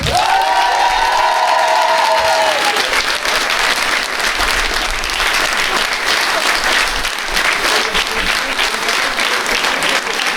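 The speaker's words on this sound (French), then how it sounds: "on va vous applaudir" A theatre audience at a troupe's show breaks into loud, sustained applause with some cheering and whoops, a thick wall of clapping that stays strong to the end, with a voice calling out briefly near the start.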